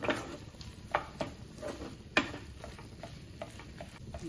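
A spoon scrapes and taps against a pan while mixing vada pav potato filling, with a few sharp clicks over a faint background sizzle, close and moderately quiet.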